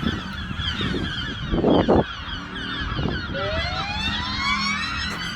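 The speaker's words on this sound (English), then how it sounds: "There's stacks of gulls up there." Several gulls call and wail over a busy outdoor background in Worthing, their rising cries overlapping, with a loud low rumble in the middle.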